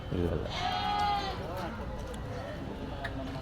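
A young lamb bleats loudly and close at the weekly Tuesday goat and sheep market in the Kadiri market yard, one long wavering cry followed by fainter calls under nearby chatter.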